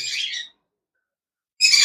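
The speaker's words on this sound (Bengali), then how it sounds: "এই যে সেই অ্যামাজন প্যারট" A large young yellow-crowned Amazon parrot gives two short, harsh, squawking calls close by, separated by a second of silence.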